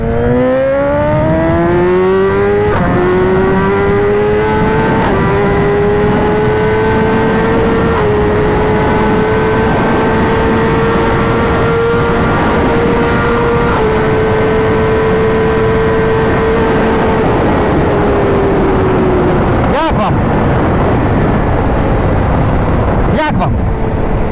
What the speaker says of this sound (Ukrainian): Наглядний вам примір ще раз. Друга скорость, гоу!